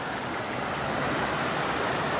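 A stream pours over a waterfall at Córrego do Lajedo near Barra do Garças, Mato Grosso, a loud, steady, close rush of broadband water noise with no talking.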